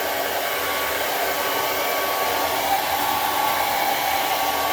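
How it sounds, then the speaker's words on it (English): A hair dryer blows steadily and loudly while drying real hair on a cold day, a constant close whoosh with no talk. "I'm definitely going to have to blow dry this baby"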